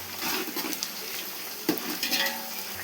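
Green chillies fry with whole spices and onion in a pan for chicken dum biryani, a close oily sizzle with a few metallic stirring clinks and scrapes of a spoon against the pot, no voices.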